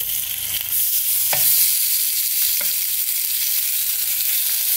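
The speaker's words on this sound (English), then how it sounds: "Nice sizzle." Beef ribs searing in a pan, a loud, continuous close-up sizzle and spatter throughout, with a couple of brief clinks or shifts of the meat and no voices.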